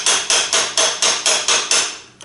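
Hammer striking a removal tool driven into a stuck oil filter, seven sharp metallic blows at an even, quick rhythm, close and loud with short ringing decay, no voices.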